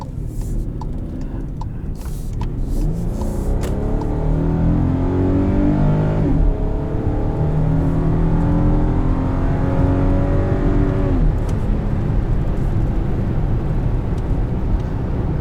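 A 2018 Volkswagen Atlas SE V6 accelerates from inside the cabin, engine note climbing in pitch, dropping sharply at quick automatic upshifts and climbing again, loud and steady throughout.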